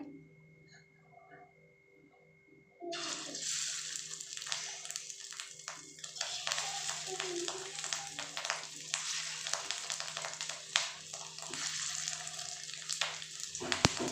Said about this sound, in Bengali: পুরো সুন্দর কড়কড়া এরকম লাল লাল করে ভাজবেন